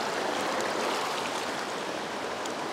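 Water runs steadily through pig intestines as they are washed for making morcillas, a continuous close hiss of flowing water with no voices.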